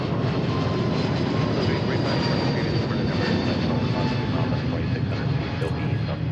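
A jet airliner departs from runway 16 Center at Seattle airport, a continuous broad roar of engine thrust holding steady and fairly loud for several seconds.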